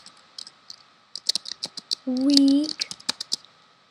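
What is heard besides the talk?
typing on a computer keyboard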